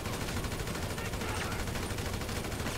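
Sustained rapid gunfire fills a GTA 5 shootout aimed at a helicopter, a dense, loud, unbroken automatic barrage with no pauses.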